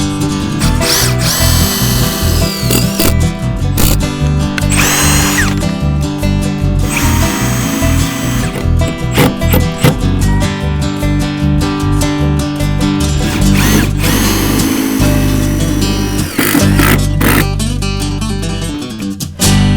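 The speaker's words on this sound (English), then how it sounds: "And I've got one battery on this drill," A battery-powered drill drives hard on a dock-building job, whirring loudly and almost continuously with surging pitch changes, brief stalls and ratcheting clicks, very close and without pause.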